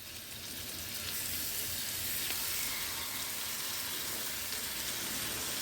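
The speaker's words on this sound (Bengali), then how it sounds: "ম্যারিনেট করে রাখা চিকেনের পিস দুটো দিয়ে দেবো।" Two marinated tandoori chicken pieces sizzle on a small tawa over high flame, a steady, close, even frying hiss that carries unbroken from start to finish.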